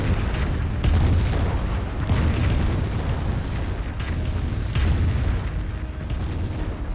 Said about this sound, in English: And here comes a Calliope rocket barrage.